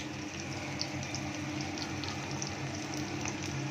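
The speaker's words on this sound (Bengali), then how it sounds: "সেই কাজু বাদামও দিয়ে দিলাম তেলের মধ্যে" Cashew nuts and onion fry in oil with a continuous dense sizzle and bubbling at a moderate, even level, flecked with small pops.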